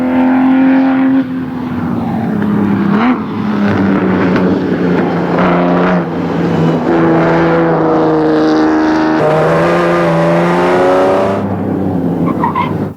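A Ferrari Testarossa race car drives at Willow Springs racetrack, its engine note loud and close, rising and falling steadily through gear changes over a long continuous pass, with tires squealing faintly.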